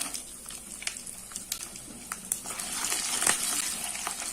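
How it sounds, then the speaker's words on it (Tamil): Four peeled garlic cloves sauté in a pan with fenugreek, peppercorns and dried red chillies, making a soft, steady sizzle with small crackles and pops that grows slightly louder toward the end. "பூண்டு கொஞ்சம் வதங்கட்டும்."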